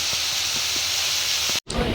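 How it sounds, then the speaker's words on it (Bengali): Green beans, potato, onion and chilli frying in a pan give a steady loud sizzle and hiss, broken by a brief silent gap near the end before the frying noise resumes. "বরবটি, আলু, পেঁয়াজ লঙ্কা দিয়ে ভাজা বসিয়ে দিলাম"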